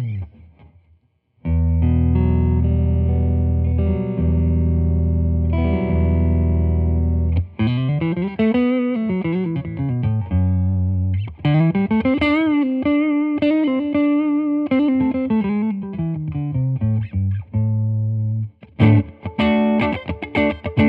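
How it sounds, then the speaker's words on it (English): Semi-hollow Stratocaster electric guitar played through an amplifier with boost, amp reverb and chorus, ringing out sustained chords and then a melodic single-note line with bends, loud and alone, ending on a few quick strums. "I'm going to have a little bit of boost on this, some reverb from the amplifier, and then of course I'll add in some chorus at the end"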